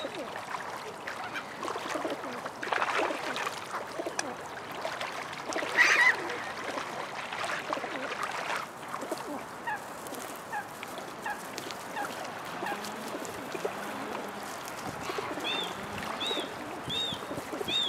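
Ducks on a lake in Krasnodar give scattered quacks and calls at moderate distance, running through steady outdoor park ambience with faint murmur and a few voices in the background.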